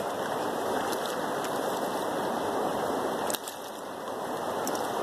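River water rushes and laps steadily around a gold pan floating on the waves, a close, continuous wash of flowing water with a brief dip partway through and no talking.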